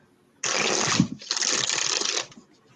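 A deck of tarot cards is riffle-shuffled close up in two quick bursts of crisp, fluttering card noise with a short break between them, and no voice over them.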